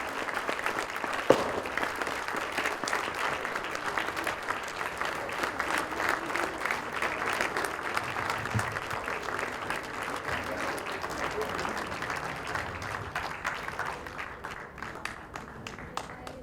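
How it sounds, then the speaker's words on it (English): An audience at a junior ICT championship awards ceremony in India claps continuously, a dense, even patter of many hands that thins toward the end, with a few voices faintly mixed in. "Yes, we should clap, guys."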